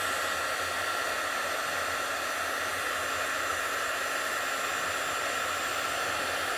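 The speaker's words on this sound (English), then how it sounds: "Let your gun heat up." A heat gun runs steadily on vellum for a paper-craft snowflake project, giving a continuous close, even blowing hiss with a faint high whine that holds unchanged throughout, with no talking.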